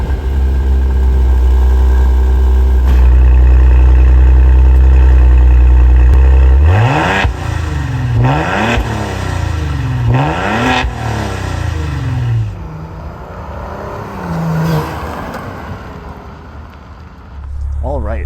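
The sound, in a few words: Maserati Levante engine revving through quad exhaust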